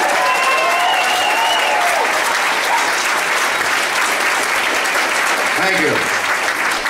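An audience applauds and cheers loudly in a continuous wash of clapping and hollering, with a few whoops rising above it, and a voice briefly speaks over the crowd near the end.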